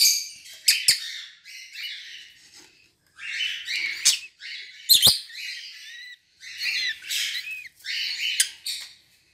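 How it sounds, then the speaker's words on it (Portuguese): Blue budgerigar parakeets in a nest give rapid squawks, chirps and chattering calls in bursts separated by brief silences, close and fairly loud. "Primeiro ninho que eu vou mexer é esse aqui, que é um casal de periquito que eu tenho azul."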